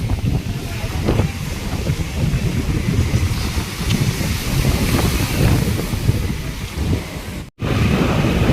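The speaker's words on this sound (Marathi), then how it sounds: "पाणी भरलं, भरती आली आहे पाण्याला." Sea water surges in at high tide, with a steady roar of waves and strong wind buffeting the microphone, loud and continuous apart from a brief dropout near the end, with no talking.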